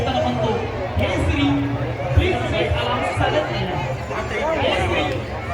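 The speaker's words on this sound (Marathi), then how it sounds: "खूप जास्त गर्दी आहे." A large crowd chatters at the Pawana Thadi fair on Sangvi ground in Pune, a dense, continuous babble of many voices close around. A nearby voice talks over the crowd.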